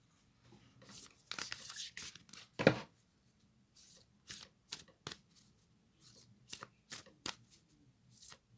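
A Moonology oracle card deck being shuffled by hand, a run of crisp riffling flicks and card slaps in uneven bursts, close and fairly quiet, with no talking.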